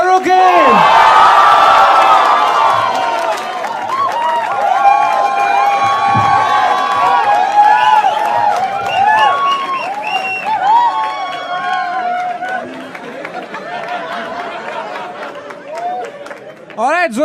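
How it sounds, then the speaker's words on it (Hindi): Loud crowd of a live comedy talent show audience whooping, cheering and clapping continuously for a panel, with shouted voices and whistles rising over the applause, close and sustained before tapering off. "Make some noise for Raghav Juyal, Niharika NM, Rohan Joshi, and Munawar Farooqi"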